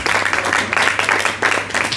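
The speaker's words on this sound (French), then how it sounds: "Applaudissements pour Irina" An audience at a book signing with author Irina Teodorescu applauds in a brisk, crowded burst of clapping that holds at an even, fairly loud level for the whole stretch.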